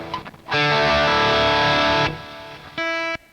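Enya Nova Inspire guitar played through its internal amp with distortion: a loud, sustained overdriven chord rings for about a second and a half after a few muted picks, then a second shorter distorted chord follows.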